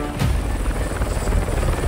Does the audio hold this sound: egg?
no